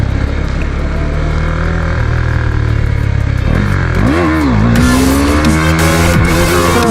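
A car engine revs hard and rises in pitch as the tyres spin and squeal through a stunt in Italy, loud and close throughout, with the screech growing harsher toward the end.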